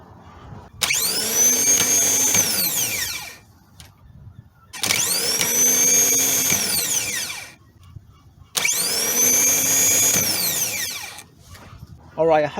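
A Toyota Sienna starter motor is bench tested on battery power, spinning up in three separate bursts of a loud whirring whine that rises then winds down between short pauses.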